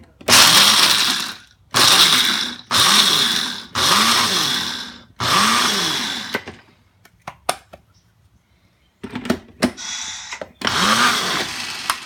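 A blender grinds pesto in five loud pulsed bursts, pauses for a few scattered clicks and rattles, then roars again in two more bursts.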